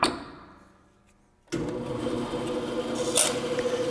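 A saw starts abruptly after a moment of quiet and keeps up a steady buzzing cutting whir for a couple of seconds, close by, while a piece is cut to 1 inch during woodworking assembly.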